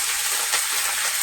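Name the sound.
whole cumin and grated ginger sizzling in hot oil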